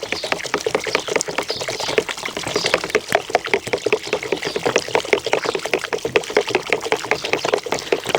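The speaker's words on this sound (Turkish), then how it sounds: "Yavaş yavaş karıştırıyorum ve yavaş yavaş döküyorum ki topaklanmasını engelliyorum." White stone dust casting mix is slowly poured and stirred in a container, giving a close, continuous wet sloshing and dribbling texture with quick rhythmic stirring strokes throughout.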